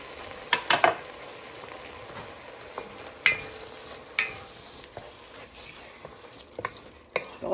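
Drained hamburger meat with taco seasoning, green chili and generic Rotel sizzles steadily in a pot, broken by several sharp scrapes and knocks of a stirring utensil.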